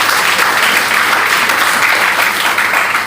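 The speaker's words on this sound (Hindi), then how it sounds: "दूर से आए हुए हमारे सभी अतिथियों का आप लोग ताली बजा करके स्वागत करेंगे।" An audience at a college history department seminar in Manas Hall claps to welcome guests, a dense steady burst of applause from a full room, loud and close, with no talk over it.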